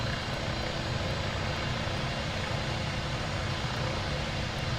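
A helicopter flies in Microsoft Flight Simulator in VR, a steady loud broadband rotor and engine roar with a faint rhythmic blade pulse that continues without a break.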